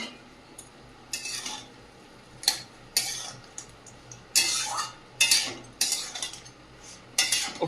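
Vegetable chorchori of home-grown garden vegetables cooking in a small wok, with repeated metal-on-metal scraping and clinking of a utensil stirring in irregular bursts, close and fairly loud over a quiet background.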